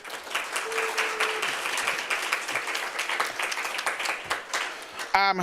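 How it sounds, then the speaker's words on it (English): A room at a student senate meeting applauds the RSC staff: brisk, even clapping from a gathered crowd, mixed with murmured voices, ending with a brief electronic tone. "Give them a round of applause."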